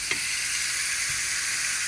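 Steaks sizzle loudly in a hot pan, a dense steady hiss of frying fat, close up and continuous, with a faint low knock near the start.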